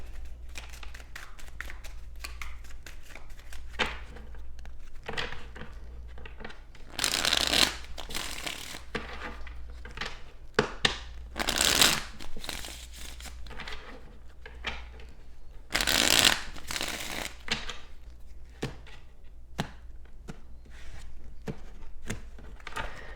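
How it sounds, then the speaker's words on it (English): Repeated riffling bursts of tarot cards being shuffled, several loud flurries with scattered taps and slides between them, close and clear. "let me just shuffle these clarifiers and we'll begin"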